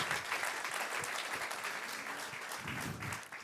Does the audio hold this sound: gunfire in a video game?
no